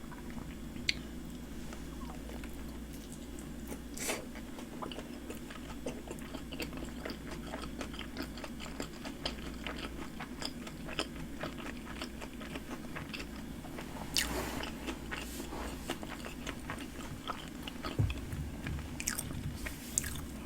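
Close-up biting and chewing of very spicy red dumplings, wet squishy mastication with soft crunches in a steady rhythm, no talking.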